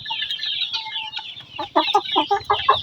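A broiler hen clucks close by, a series of quick rhythmic clucks building in a short burst, with other faint bird sounds behind.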